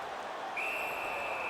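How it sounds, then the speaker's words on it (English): Referee whistle in the NHL 19 hockey video game: one sustained shrill blast starting midway through, over a soft crowd murmur. "the whistle stops play"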